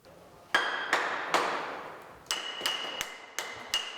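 Workers brick in the lining of a capital-repaired boiler at a large city boiler house, giving about eight sharp ringing knocks at an uneven pace that echo faintly in the room.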